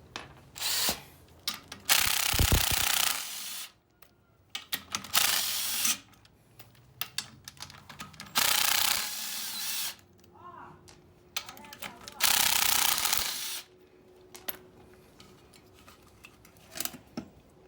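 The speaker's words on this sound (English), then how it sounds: "I'll run my impact real quick" An impact wrench loosens brake bolts on a 1999–2007 Chevrolet Silverado or GMC Sierra during a drum-to-disc brake conversion, sounding in several loud, sustained bursts with quieter clicks and shop noise between them.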